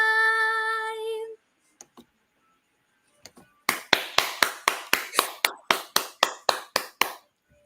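After a held sung note fades, crisp close claps ring out in a steady, even rhythm, a dozen or so in a row, praising a Jamaican singer.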